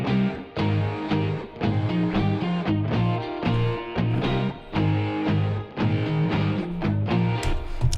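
A high, overdriven lead guitar from an American Lead Mark III patch rides over a full pop mix, steady and sustained across the whole stretch with no voices.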